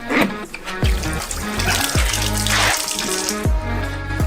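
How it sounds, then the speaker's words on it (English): Watermelons being washed in a sink under running tap water, a steady close trickle and splash with occasional thumps and knocks as the fruit is handled. "We transfer the watermelons to the sink and wash them thoroughly."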